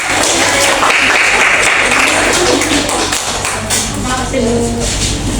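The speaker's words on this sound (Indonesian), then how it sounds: "Boleh tepuk tangan lagi dong" Fourth-grade primary school pupils clapping in a classroom, a loud, scattered patter of small hands mixed with shuffling and children's voices.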